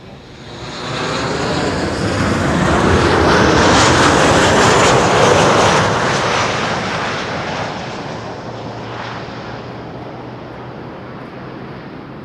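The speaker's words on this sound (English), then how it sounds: "Transavia flight 1730 is approaching behind me." A Transavia airliner with GE90 engines approaches Schiphol's Kaagbaan runway 06 on arrival from Zakynthos, its broad roar swelling over a few seconds to a loud peak, then slowly fading as it passes.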